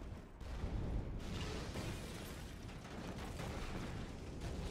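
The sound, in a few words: explosion in the video game Borderlands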